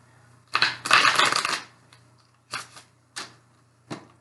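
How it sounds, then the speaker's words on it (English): Cards being shuffled up close: one long riffling burst followed by several shorter snappy flicks, with no talking. "I'm going to shuffle and then pull"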